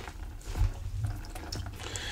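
Cauliflower being squeezed through a rag by hand, with close, faint wet drips and trickles of water wringing out in short bursts.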